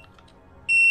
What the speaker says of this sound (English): Put hair through slot. Hold big button down. Wait for beep.